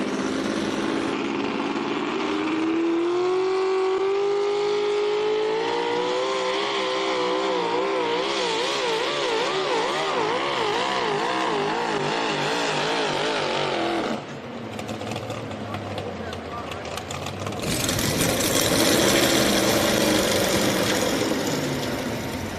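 A Pro Modified 4WD pulling truck roars down the track at a truck pulling event, its engine pitch climbing and wavering as the wheels hop. Then the sound drops and surges again while an announcer talks over it.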